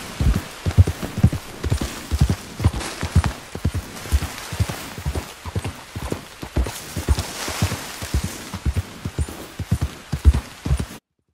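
Horse hooves clip-clop in a steady, rapid rhythm as a horse is ridden in a free-roam video game, loud and close throughout with no voice over them.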